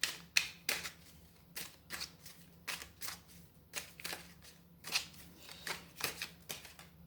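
Tarot cards being shuffled by hand, a steady series of crisp riffling and flicking bursts at an irregular rhythm, close and fairly soft, with no talking.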